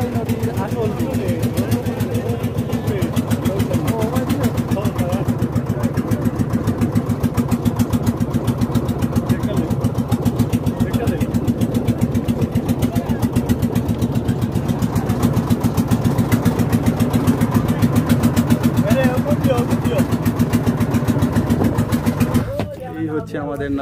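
A boat engine runs steadily on the Dhalai river near Bholaganj, Sylhet, a continuous low mechanical drone with a rhythmic chug that holds throughout before cutting off abruptly at the end; voices talk faintly over it.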